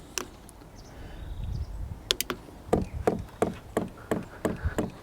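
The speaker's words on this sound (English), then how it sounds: "That noise you hear is this fuel pump here" Sharp mechanical ticking from a diesel heater's small fuel pump starts after a quiet moment, then clicks steadily at about three per second, close and fairly loud with no talking.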